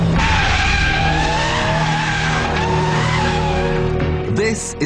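BMW M3 E92 skidding: loud, close tire squeal rides over a steady engine roar throughout, with the car sliding continuously and a brief shift in pitch near the end.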